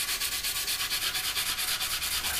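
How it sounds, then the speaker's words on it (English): Small cut-down sanding stick rubbing over taped plastic on a Hasegawa 1/32 P-40 model kit, a close, even scratchy rasp repeating in quick regular back-and-forth strokes. "if we use our smaller little sanding stick that we cut down, I'm just going to give it a rub"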